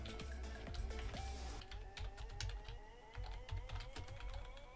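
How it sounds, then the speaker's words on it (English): Close, quiet computer keyboard typing during a live stream, irregular clicking keystrokes in quick bursts over soft background music. "I'm awkwardly typing now."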